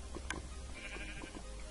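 Several short Minecraft sheep bleats over a steady low hum, close and fairly loud, with a couple of bleats overlapping near the start.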